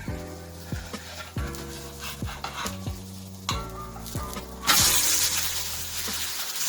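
An onion uthappam fries in oil in a pan and gets flipped, with a series of scraping spatula strokes over a sizzle, then a louder burst of hissing as the flipped side hits the hot oil.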